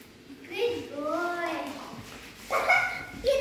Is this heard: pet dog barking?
yes